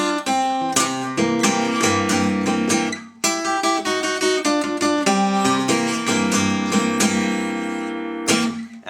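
Acoustic guitar plays a Delta blues lick, a steady run of plucked, ringing notes and chords with a short break near three seconds, close and clear with no voice.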